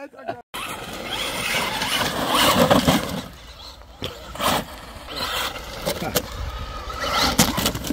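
A Traxxas RC car accelerates at an outdoor rally-style RC meet, its electric motor whining in close bursts with tire scrabble, while people talk nearby.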